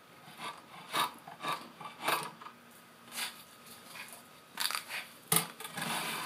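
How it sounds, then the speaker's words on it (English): A Surform rasp smooths the laminated hickory and bamboo of a 75 lb English longbow in a series of separate rasping strokes, each a short gritty scrape, close and fairly quiet, with no talk. "I'm going to switch to using a sure-form rasp"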